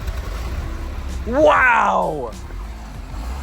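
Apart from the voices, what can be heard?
car engine running with newly fitted exhaust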